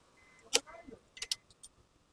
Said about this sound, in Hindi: तो हम इस चाबी को यहाँ पे लगा देते हैं